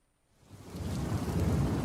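A thunderstorm with steady heavy rain swells up from near silence into a dense, loud roar of rainfall and low rumbling thunder that fills the clip, with no voices.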